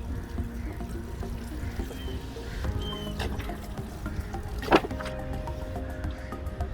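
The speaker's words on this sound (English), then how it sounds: "I'm going to give full watering." Water is poured over a golden shower tree being trained as a nursery bonsai, giving a steady soft splashing and trickling with one brief sharper splash near the end, fairly close.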